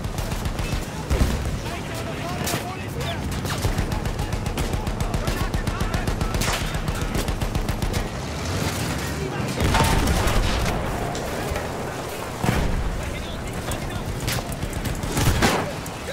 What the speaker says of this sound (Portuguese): McManus, espere e acerte os tiros